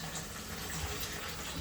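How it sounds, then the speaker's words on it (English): Water is poured onto grated coconut for juicing, a continuous gushing, splashing stream, close and steady throughout. "Get some water on it."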